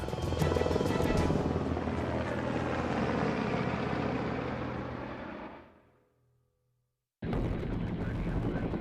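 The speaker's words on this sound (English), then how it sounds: "flies with one of the most sophisticated helicopters in the US Army. The Black Hawk." A loud, heavy Black Hawk twin-turbine helicopter roar with deep rotor thump fades away over several seconds, then after a brief silence cuts back in at full strength.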